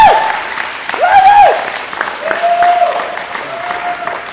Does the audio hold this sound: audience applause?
yes